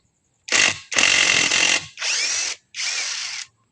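Tanzo cordless impact driver firing in four separate bursts, a loud buzzing hammer-rattle with whining motor, the second burst longest, each separated by brief silence.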